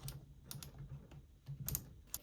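An MTM foam cannon's adjustment dial being turned, giving a run of small, close plastic clicks in an irregular rhythm, quiet and without talk.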